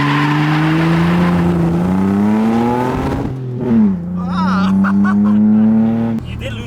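A BMW E30 with an M52 engine accelerates hard on a test drive, its engine note climbing in pitch and dipping briefly at a gear change before it pulls up strongly again, loud and close from inside the car.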